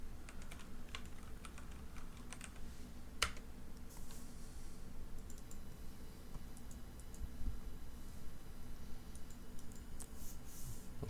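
Typing on a computer keyboard while building a spreadsheet, a quiet steady patter of key clicks with occasional sharper taps, close by and alone without talk.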